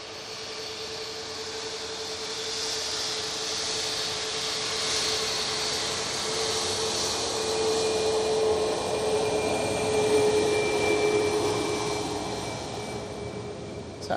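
A TUI passenger jet bound for Zakynthos passes at Bristol Airport, making a steady broadband roar with a faint whine that swells gradually and peaks near the end of the pass.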